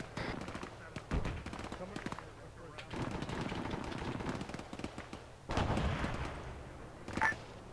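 Heavy weapon fire echoes from a distance in bursts and single sharp reports during a military simulation exercise, under intermittent radio chatter and talk.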